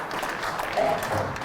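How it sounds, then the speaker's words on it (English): Arena crowd applause after a pool match, a steady, dense roar of clapping from a large audience that holds evenly throughout, with a voice briefly heard over it. "Real applause around the arena"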